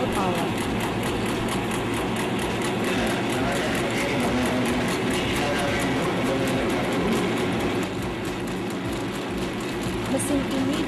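A stainless steel meatball-forming machine, shaping blended-meat bakso at up to 18,000 balls per hour, runs with a steady, dense mechanical whir and rattle that continues unbroken throughout.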